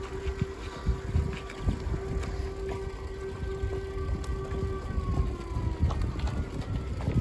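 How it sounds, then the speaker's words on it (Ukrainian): An air raid siren sounds during its routine first-Wednesday-of-the-month test, a sustained wailing tone that slowly shifts in pitch, carried from a distance over gusty wind buffeting the microphone. "У нас повітряна тривога, як завжди, перша середа місяця."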